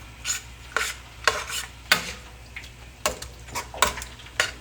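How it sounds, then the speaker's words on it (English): Coconut curry shrimp with wine cooks in a pan: quiet, irregular utensil scrapes and clinks come every half second or so over a faint, low sizzle, with no voices. "I'm just going to cover it up and let it simmer for a few minutes"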